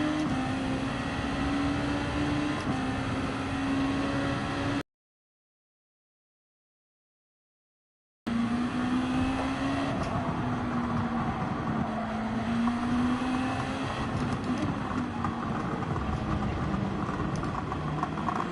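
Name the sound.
car exhaust noise in Gran Turismo 7 video game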